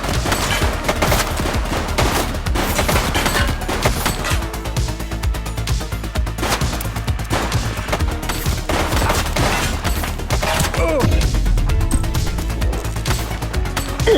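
Loud, dense video game gunfire, with rapid overlapping bursts and single shots repeating across the whole stretch with almost no pause.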